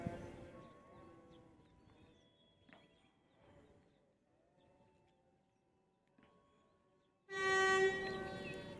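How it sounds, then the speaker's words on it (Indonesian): Quiet station ambience with faint clanks and distant voices, then a loud locomotive horn blasts near the end as the Cenggala passenger train to Sidoarjo begins to move. "Kita tunggu ya, keretanya berangkat"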